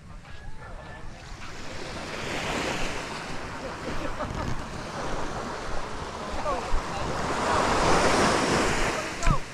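Calm sea waves wash steadily onto the shore, a soft, continuous surge that swells toward the end, with some wind buffeting the microphone.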